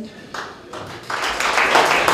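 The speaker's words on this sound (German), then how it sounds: "Das ist ein Applaus." Audience applause at a German inn's handover celebration, starting as a few scattered claps and swelling into steady, fuller clapping from the room.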